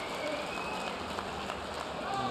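A boxing crowd in Milan cheers and roars during a World Series of Boxing bout, a continuous wash of applause and shouting throughout, with a commentator talking over it.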